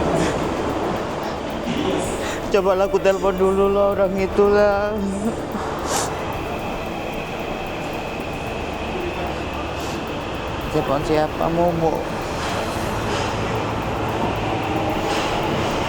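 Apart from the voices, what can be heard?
train riding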